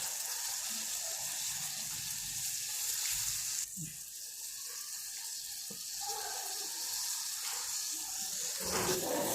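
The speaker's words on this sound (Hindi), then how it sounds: "पानी में उबाल आ रहा है।" Water boils in a pot over a high flame while a jelly dessert is being made, giving a steady bubbling and hissing rumble with a few brief knocks, and no talk.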